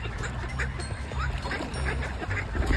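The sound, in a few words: swans calling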